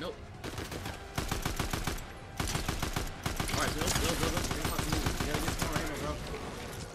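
Rapid bursts of gunfire in the video game Fortnite, dense and continuous, with loud volleys of automatic shots running through most of the stretch and voices talking over them.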